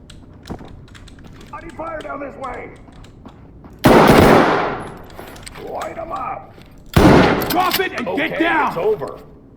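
Gunfire in the tactical shooter Ready or Not: two loud close bursts of shots, each trailing off in echo, with a player talking between and after them.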